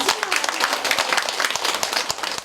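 An audience applauds with dense, rapid clapping from many hands, sustained and fairly close throughout, with some voices faintly mixed in.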